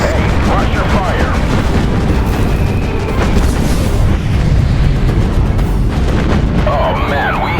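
Naval combat in the video game Battlestations Pacific brings dense, continuous gunfire and booming explosions that rumble loudly throughout, with radio-style voices calling out over the din.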